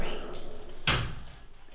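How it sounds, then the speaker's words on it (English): A door is pushed shut with a single quick, close thud, set against a quiet room with faint murmuring voices before and after. "she wants to close the door"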